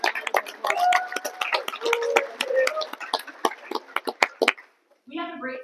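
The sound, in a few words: audience applause for event sponsors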